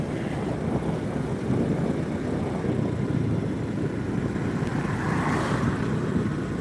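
Sea waves rolling onto the wide Puducherry Marina beach make a dense, constant roar mixed with wind noise on the microphone, steady and fairly loud with no speech.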